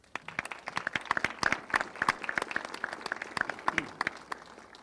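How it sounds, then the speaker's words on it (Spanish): A conference audience applauds to welcome a speaker at an event on the challenges facing public media. Many hands clap in a lively, irregular patter that swells and stays full for about five seconds. "para recibirlo, que le brindáramos un aplauso"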